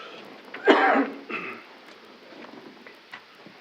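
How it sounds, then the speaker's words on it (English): A single rough cough sounds up close, followed by a softer throat-clearing rasp against faint room hiss. "I got cough again."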